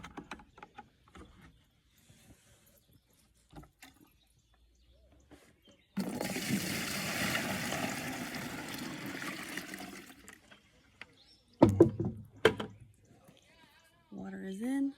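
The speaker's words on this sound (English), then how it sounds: "I'm going to pour the water in." Water poured into a BEC MaxiCup automatic chicken waterer makes a steady, fairly loud splashing rush for about four seconds mid-clip, bracketed by quiet handling clatter and a few knocks.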